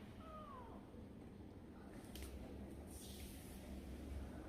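A stray cat gives a single faint meow near the start, followed by quiet background hum and a couple of soft rustling or spraying noises later.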